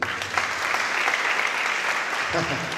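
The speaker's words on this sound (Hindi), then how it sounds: "इनके लिए ताली बजा दीजिए" A church congregation breaks into sustained applause, a thick, even roar of clapping hands filling the room, with a voice briefly emerging near the end as it fades.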